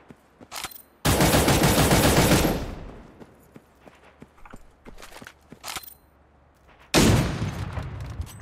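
Gunfire in the video game Cyber Hunter: a long, loud automatic burst near the start, then scattered single shots and footsteps, with another heavy burst of fire near the end.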